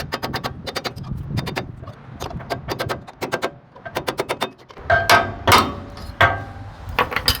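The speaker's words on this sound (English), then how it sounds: "I just use chisel and shop hammer" Sharp metallic hammer strikes on a chisel, driven with a shop hammer while replacing a torque arm on a 48-foot flatbed trailer, ring out in rapid clusters of blows, close and loud, with short pauses between bursts.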